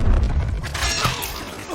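A bomb rigged on a ravine cliff goes off in a dramatic action story, a loud deep boom with a crackling, breaking rumble that slowly fades over under two seconds.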